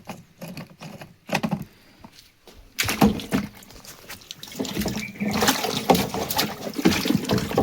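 Water splashing and rushing as dirt and sand are washed out of a clogged drip irrigation filter on a farm, starting with intermittent splashes, then becoming a steady, louder gush of flowing water up close.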